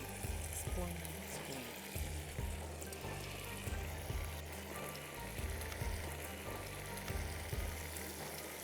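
Soya chunks frying in a hot pan, with a steady loud sizzle and crackle that carries throughout, broken by regular stirring knocks against the metal.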